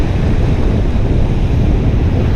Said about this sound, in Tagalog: Ang lakas ng ano, agos.